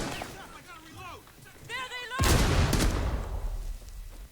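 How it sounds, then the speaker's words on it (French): In Rainbow Six Siege, a grenade goes off midway as a loud, close boom with a rumbling tail that fills the rest of the moment, following a stretch of in-game voices. "il a explosé ce bâtard. Grenade."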